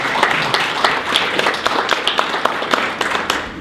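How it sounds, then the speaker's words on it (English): A seminar audience applauds a presenter after his talk on marketing agency pitches, dense continuous clapping from many hands filling the room at steady loudness with scattered sharper claps, no voices over it. "first let's give Henry a round of applause"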